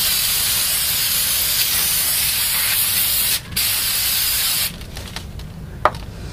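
Aerosol brake cleaner sprayed onto the front brakes of a 2014 Toyota Sienna, a loud close hiss held for about four seconds with a brief break, then quieter rattling afterward.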